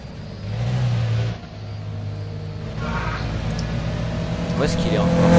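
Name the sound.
car engine revving in Roblox Midnight Racing video game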